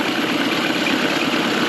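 An outboard motor idles in gear, its steady mid-low engine drone running evenly and close throughout with no voices.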